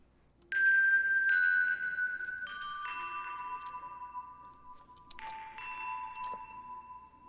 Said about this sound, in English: the Glockenspiel, which we played and recorded here. I'll play it processed, soloed,